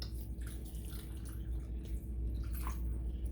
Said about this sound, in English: I'm going to go ahead and fill it up with water.